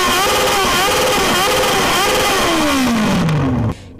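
A custom-built go-kart exhaust at a tuning festival sound-pressure test roars loud and close with rough revving that dips and rises, then winds down in a falling tone before stopping.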